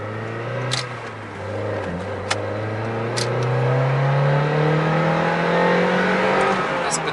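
A moped engine drones steadily while riding straight without turns, its pitch slowly rising as it gathers speed, loud and close, with a few small clicks and knocks over the hum and no talking.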